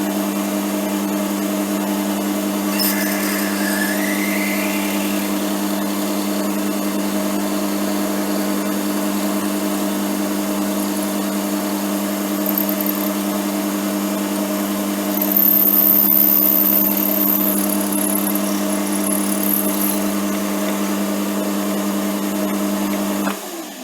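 A drill bores out a commercial model-making gear pinion from 3.2 to 4 mm, a steady close tonal motor whine with a sustained hum throughout, brief higher squeals from the bit cutting metal.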